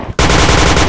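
Automatic gunfire in the game Point Blank, a loud close burst of rapid, evenly spaced shots that cuts in sharply after a brief quiet moment.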